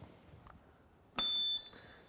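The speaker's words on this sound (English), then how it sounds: "the beeping noise, that's basically the machine switching on and checking all the safety switches around the platform" One short electronic beep from a compact wheelchair recliner and bariatric bench machine switching on and checking its platform safety switches, at about a third of a second, after a faint click and over quiet background noise.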